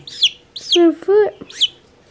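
Guinea fowl call in a farmyard, a few sharp, high chattering squawks repeated close by, with a couple of lower harsh notes in between.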